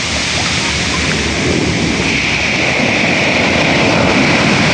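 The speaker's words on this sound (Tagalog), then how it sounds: "Ay, lakas ng alon." Strong sea waves surge and wash in a steady, loud roar that fills the whole stretch, with no voices over the rough surf.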